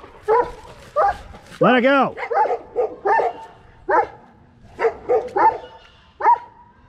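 Dog barking near its kennel, a series of sharp barks with a howling yip, loud and close, mixed with a person shouting commands over it.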